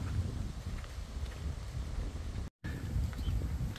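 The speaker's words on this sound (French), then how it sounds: "il y a beaucoup de vent là" Strong wind on a hiking trail buffets the microphone with a steady low roar and rumbling gusts, briefly cutting out for a moment before resuming.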